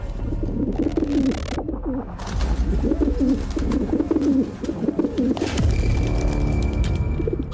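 A pigeon-like bird cooing inside the snowy Amarnath mountain cave: repeated soft, throaty coos in rhythmic phrases with short pauses, clear and close, with no talking.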